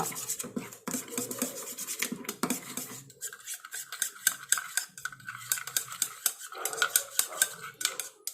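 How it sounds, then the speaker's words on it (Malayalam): A spoonful of curd being stirred in a bowl for a homemade face pack, giving close, repeated scraping and clinking of a spoon against the bowl, with short scratchy strokes running steadily throughout. "ഒരു സ്പൂൺ തൈര് മിക്സ് ആക്കുക"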